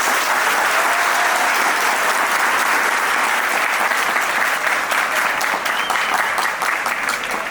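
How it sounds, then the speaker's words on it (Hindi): Loud, sustained applause from a large audience at a toppers' felicitation ceremony for coaching students, a thick unbroken roar of clapping that holds steady from start to finish. "एक बार आप सभी के लिए और उनके लिए एक जोरदार तालियां।"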